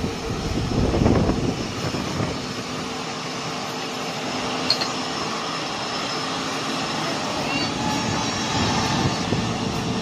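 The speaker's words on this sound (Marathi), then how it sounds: "टेक ऑफ करताना केवढा आवाज येतो." Airplane taking off near the airport at Kurla, Mumbai: a loud, continuous broadband engine roar that swells early and then holds steady and close for the whole stretch, with no talking.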